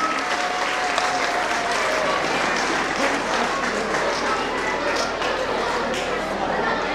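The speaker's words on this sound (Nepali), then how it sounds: "please put your hands together" An audience at a parents day event applauds steadily for several seconds to welcome a yoga guru, with dense, continuous clapping filling the hall.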